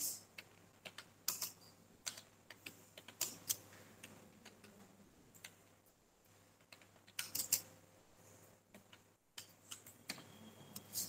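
Names are typed into a computer keyboard while filling in a salary sheet in Tally, giving soft, irregular clusters of quiet key clicks with short pauses between bursts.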